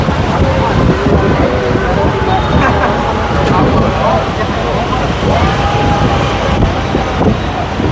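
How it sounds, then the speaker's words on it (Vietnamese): Wind blows over the Saigon River past an open double-decker bus, producing a steady, loud roaring buffet against the microphone, with vehicle rumble underneath. "gió ngoài sông lồng lồng thổi mát luôn"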